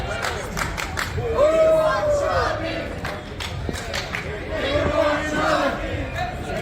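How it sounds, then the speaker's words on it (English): Wrestling show crowd chanting and shouting in waves, a rhythmic swell of voices rising and falling at moderate loudness, with scattered claps and some chatter mixed in. "Crowd again asking for Chubby Depp."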